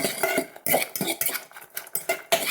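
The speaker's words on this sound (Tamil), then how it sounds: "இப்போ உப்பையும் கலந்து மிக்ஸ் பண்ணிவிடுவோம்" A spoon clinks rapidly against a bowl while salt is mixed into an egg mixture for an onion-ring egg fry, giving a quick, irregular series of close metallic taps and scrapes with no talk.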